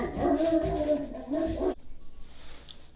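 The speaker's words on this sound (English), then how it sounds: "That dog had the audacity to bark at the people delivering his food." A dog close by gives a drawn-out, whining bark-howl lasting under two seconds, then quiet room noise follows with no talking.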